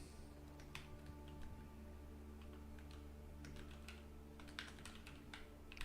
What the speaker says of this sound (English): Just a bit of extra typing